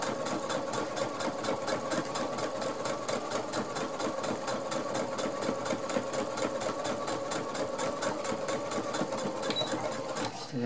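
A sewing machine stitches through thick foam padding for a reversible fabric basket, its needle hammering in a fast, even, relentless rhythm, close and steady with no pause.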